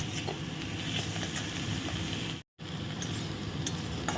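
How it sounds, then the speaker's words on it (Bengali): Ingredients softening in hot oil in a frying pan give a steady, even sizzle and hiss throughout, broken by one brief dropout midway. "সুন্দর করে এটাকে মেল্ট করে ভাজতে হবে, মানে প্রত্যেকটা জিনিস যেন নরম হয়ে যায়।"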